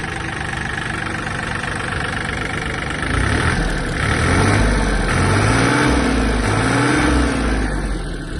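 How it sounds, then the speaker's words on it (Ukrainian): A Yanmar EG-230 Japanese mini tractor's small engine idles with a steady low chug, then revs up briefly and settles, rising and falling a few times. "Двигун працює просто шикарно."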